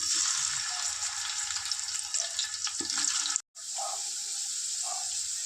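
Onion hits hot oil and butter in a pan and fries with a loud, continuous sizzle that cuts out for a moment and then resumes.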